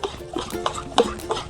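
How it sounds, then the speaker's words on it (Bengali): Gokul pithe batter is beaten by hand in a bowl, a run of soft, quick, evenly spaced slapping strokes at close range with nothing else heard. "পিঠেটা যেহেতু ভাজবো তাই আমি ভালো করে আর একটু ঘেটে নিচ্ছি"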